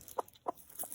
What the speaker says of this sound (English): I hate these chickens.